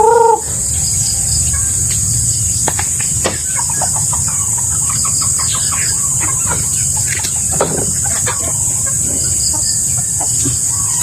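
Native chicken hens cluck intermittently in short, scattered calls against a steady background hiss, with no talking heard.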